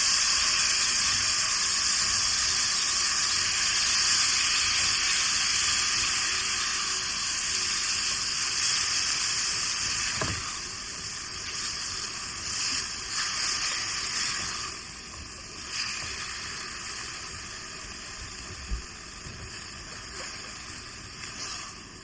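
Chicken frying in a pan with ginger and garlic, a loud, steady, bright sizzle that holds throughout with only slight dips and a few faint clicks.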